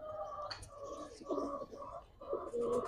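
Old-bloodline red khaki Giribaz high-flyer pigeons coo softly in several short, throaty phrases, fairly faint and close, with no clear talk over them.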